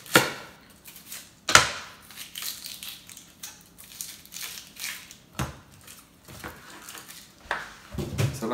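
A knife slices serrano chiles into thin strips on a cutting board for red aguachile, giving a few sharp, close chops with quieter cutting and scraping between them.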